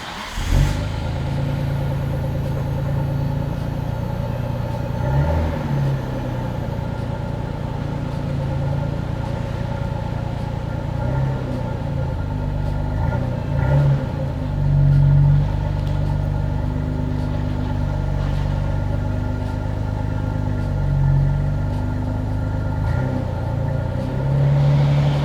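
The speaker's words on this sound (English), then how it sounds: "We're gonna go ahead and start this bad boy." A Nissan Stagea's engine starts and settles into a steady, loud idle in a driveway, a low continuous rumble with slight surges, running alone throughout.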